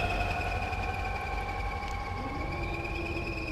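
A K-type off-road truck in the video game Mudrunner runs with a steady droning engine hum and whine, holding a constant moderate level throughout.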